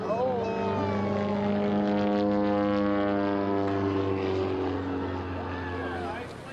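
An antique propeller plane flying old-time aerobatics at an air show drones steadily with a strong, even engine hum that slowly shifts pitch as it passes, fading slightly at the end.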